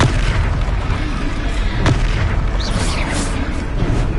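A Confringo fire spell explodes in the video game Hogwarts Legacy, a loud booming blast with rumbling low-end and a sharp crack partway through, all within dense, continuous battle noise.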